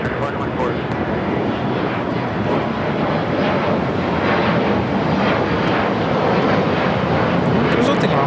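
An airliner takes off from runway 25 right at LAX with a loud, continuous engine roar holding steady throughout, heard close with wind buffeting and voices talking over it.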